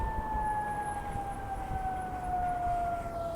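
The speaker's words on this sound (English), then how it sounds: "Every time I do these videos, there's a fire truck or ambulance" Fire truck or ambulance siren, a sustained tone slowly dropping in pitch as it passes at a distance, heard alone over a low background rumble.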